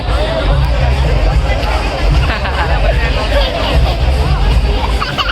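Dense crowd babble fills an outdoor space at the Mysuru Dasara cultural festival, loud and continuous with overlapping voices and a low rumble of traffic.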